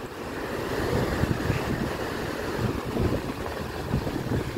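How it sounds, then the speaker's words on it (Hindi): Heavy, steady roar of water rushing through an open dam gate nearby, loud and continuous with a broad rumbling texture. "एक गेट से इतना पानी जा रहा"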